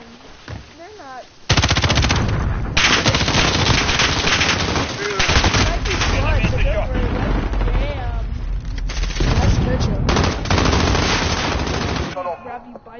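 Sustained bursts of rapid automatic gunfire in the video game Call of Duty Warzone, loud and dense, with brief pauses between volleys and faint voices underneath.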